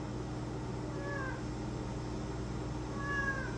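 A house cat gives two short, faint meows over a steady background hum, with the second call slightly clearer than the first.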